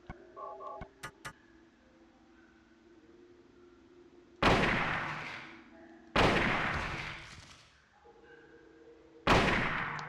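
Three loud rifle shots at monsters on the ceiling in the 1999 Silent Hill video game, each a sharp blast with a long decaying echo, spaced a couple of seconds apart after a few faint clicks.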